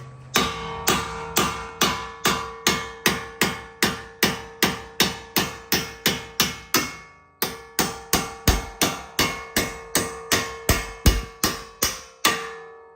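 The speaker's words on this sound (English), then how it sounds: "take a hammer and hit the back side of the nut to push the bolt through" Rapid, steady hammer blows ring out on a metal nut, pushing a bolt through on a 2025 Mustang GT, about two per second, with a short pause midway before the pounding resumes.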